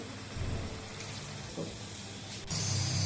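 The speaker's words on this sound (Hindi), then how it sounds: "अब इसमें जाएगा हाफ ग्लास पानी।" Half a glass of water poured into a cooking pot of mutton for a spinach meat curry, a steady splashing gush lasting a few seconds that surges louder near the end, with no talk.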